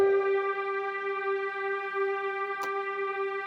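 A Casio CT-X5000 keyboard played with a fast portamento setting: a quick pitch slide into a steady sustained note, with a brief click near the end, heard alone and clear.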